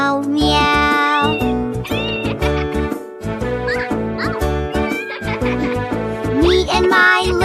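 A children's nursery rhyme with rhythmic instrumental backing and sung meows imitating a cat, repeated in a bouncy pattern throughout.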